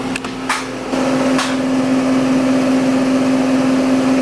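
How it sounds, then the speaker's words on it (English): A washing machine on its spin cycle gives off a steady droning hum with a strong low tone from a nearby room, a few short knocks early on before it settles into a constant whir. "the washing machine is spinning."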